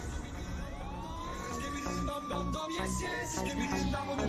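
A police siren wails in an AI-made Cyberpunk Skibidi Toilet episode, a single rising and falling tone sweeping over a dense, rumbling backdrop of traffic and clatter.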